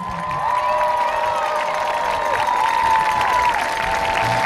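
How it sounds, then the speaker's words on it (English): Crowd applause and cheering at a high school homecoming for the homecoming king and queen, a dense steady wash of clapping with shouts and whoops, sustained throughout. "How about a nice round of applause for our 2014 homecoming royalty?"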